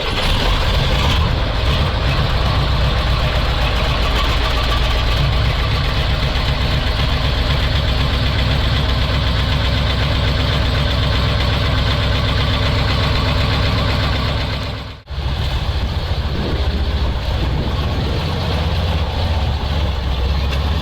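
An old Soviet MAZ crane truck's engine runs loud and close in a steady, rough diesel idle with a knocking rumble. There is a brief dip near the end, and then the idle continues.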